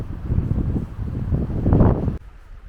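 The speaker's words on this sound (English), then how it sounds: "that wind, it chills you to the bone" Gusty wind buffets the microphone in a forest area of Hamra National Park, Sweden, a loud, rumbling, uneven roar that swells and then drops away suddenly near the end.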